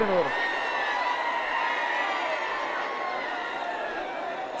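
A large crowd roars and cheers at a bullock cart race, a dense, loud wash of voices that fades slowly, with one prominent whistle-like call at the start.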